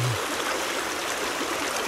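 Steady rushing flow of water in a stone-lined mountain irrigation canal near Guillestre, close and constant, with no voices.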